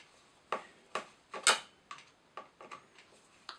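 A wrench turning two small M4 screws during an oil pump repair on a Husqvarna 543 XPG chainsaw, a faint series of sharp metallic ticks and clicks in an irregular rhythm, close up.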